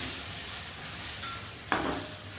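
Chopped tomatoes being stirred into a garlic-ginger masala frying in a pan, a steady soft sizzle throughout with a brief clink of the spoon near the end.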